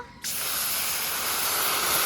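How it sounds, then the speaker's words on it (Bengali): A sudden loud hiss erupts as water hits a hot wok, then continues as a steady, sustained sizzling spray up close. "এখন সামান্য জল দেব"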